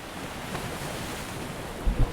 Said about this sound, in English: A bit of a beach here and a bit of a jetty.